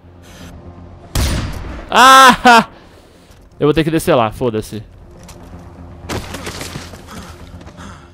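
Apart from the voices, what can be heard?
gunfire in video game Far Cry 4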